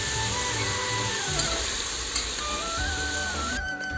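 A ground spice paste of garlic, ginger, coriander leaves, cloves and cardamom fries in a pan for mutton curry, giving a steady, soft sizzle that holds throughout with a faint background hum.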